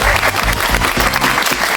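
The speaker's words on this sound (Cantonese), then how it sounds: "我哋俾掌聲再一次啊" A crowd at a Hong Kong celebrity football team match applauds a returning footballer: loud, dense, continuous clapping that fills the whole moment without a break.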